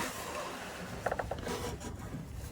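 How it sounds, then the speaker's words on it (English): A ratchet turns out the 10mm upper alternator bolt on a Ford Mustang EcoBoost, giving a short burst of a few close, sharp clicks over steady workshop background noise. "now I'm taking out the upper alternator bolt"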